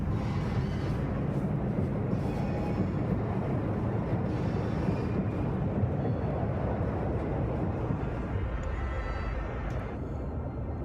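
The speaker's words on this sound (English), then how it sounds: "A land train." Low, continuous rumbling of a land train rolling across frozen terrain in the video game Frostpunk, a steady dense drone that holds at an even level throughout without speech.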